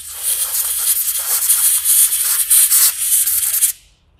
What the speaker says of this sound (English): just spray in the electric cleaner, dry it out perfectly